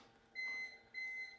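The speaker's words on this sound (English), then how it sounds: "The noises it makes during a power outage would be loss of power and a continual beep with pauses between" A CyberPower UPS beeping during a power outage, sounding two evenly spaced short electronic beeps with a pause between, fairly faint and alone.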